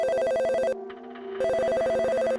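A telephone rings loud and close, a steady bell-like trill in two bursts separated by a short pause, with no voices.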